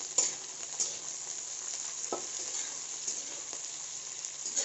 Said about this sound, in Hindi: अब हम इसमें 3 मीडियम कटे हुए प्याज डालेंगे।